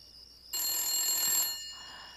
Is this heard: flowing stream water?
no